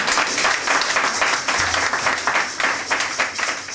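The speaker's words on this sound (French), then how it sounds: "Applaudissons très fort pour lui." Steady, dense applause from a church congregation celebrating the pastor's birthday, even and continuous through the whole stretch with no voices standing out.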